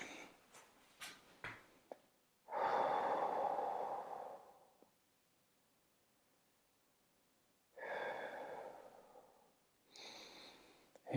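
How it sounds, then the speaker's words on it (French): Two long, breathy exhalations during a morning muscle-wake-up stretching routine, each lasting about two seconds, with a short puff between them and a few faint clicks at the start, close and fairly quiet. "Et on souffle bien."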